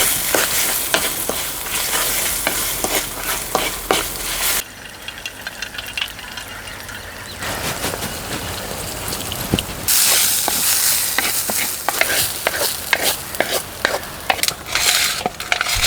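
Seasoned rice tossed and stirred in a hot frying pan for an Andhra meal, a steady loud sizzle and scraping rattle that pauses briefly midway, then resumes strongly, with no talking.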